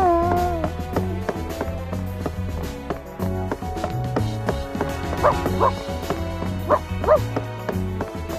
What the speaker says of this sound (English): The puppy gives its warning.